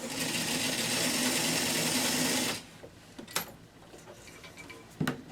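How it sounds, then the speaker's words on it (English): A sewing machine stitches a fabric strip with a steady fast whirring run for a couple of seconds, then stops, followed by a few quiet clicks and handling taps. "I'm going to sew my trunk onto a half piece of that 16-inch strip"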